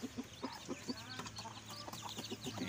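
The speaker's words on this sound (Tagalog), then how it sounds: "Ito yung mga 15 days na manok." Fifteen-day-old pure-bred Pama IQ straight-comb chickens cluck and peep in a quick, irregular series of soft calls, close by and fairly quiet against a low background hum.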